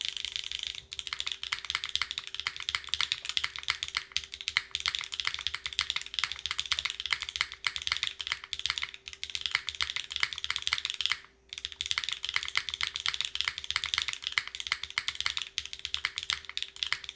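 Rapid, continuous clacking of an unplugged mechanical keyboard with an aluminum case being typed on, crisp and close, with one brief pause midway.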